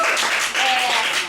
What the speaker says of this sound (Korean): 이 책의 저자 이윤하 대표님을 박수로 모셔보도록 하겠습니다